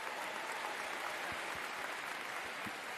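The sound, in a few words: clapping, a round of applause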